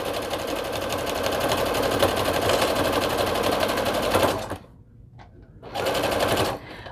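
A sewing machine stitches a hooded towel in a long steady run of about four seconds, stops briefly, then runs again in a shorter burst before falling quiet.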